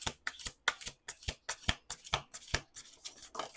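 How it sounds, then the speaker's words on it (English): Tarot cards are shuffled close by in a steady run of crisp riffling snaps, about a dozen sharp slaps falling in an even rhythm, fairly quiet with no talking. "Last shuffle."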